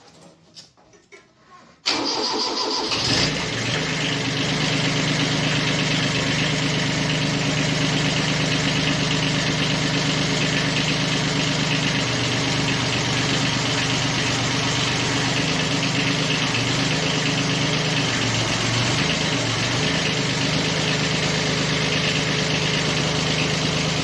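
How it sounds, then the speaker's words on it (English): Kubota B series tractor with hydrostatic drive cranks and fires up after quiet shuffling, then runs at a loud, steady diesel idle with slight fluctuations for over twenty seconds, close by. "Always handy when a machine jacks itself up."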